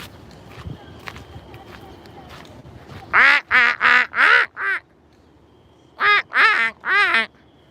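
Ducks at Turtle Park in Tokyo quack loudly and close by in two quick bursts of four or five calls each, with quiet outdoor ambience and footsteps before them.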